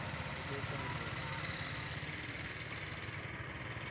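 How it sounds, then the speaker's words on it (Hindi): Engines hum steadily as motorcycles pass over the Trimmu barrage bridge in Jhang, a faint, continuous drone of traffic with no distinct passes standing out. "वेख सकते हो मोटरसाइकिल टप रहे हैं"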